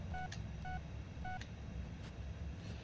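Phone dialing tones from the Blair Witch video game play as three short two-tone beeps, faint and evenly spaced, over a low background rumble.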